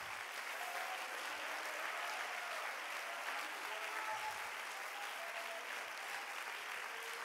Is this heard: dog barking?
no